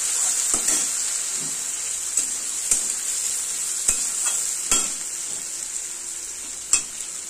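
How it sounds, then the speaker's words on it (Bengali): Chopped onions fry in hot oil in a pan with whole cardamom and bay leaf for a fish kalia, a steady close sizzle broken by several sharp scrapes and knocks of stirring. "এবার দিয়ে দেবো পেঁয়াজ কুচিগুলো।"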